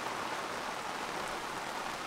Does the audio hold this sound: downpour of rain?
yes